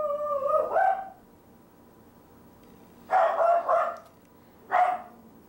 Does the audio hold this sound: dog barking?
yes